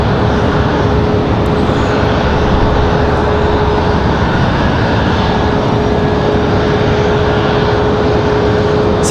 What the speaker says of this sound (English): Our CRJ from Austin, Texas.